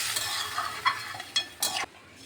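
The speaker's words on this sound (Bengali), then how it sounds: "এখন আমি এখানে পরিমাণ মতো জল দিয়ে দিচ্ছি।" Gobindobhog rice frying in a pan sizzles as water is poured in, with a few sharp stirring scrapes and a brief surge of bubbling near the end, close and fairly quiet.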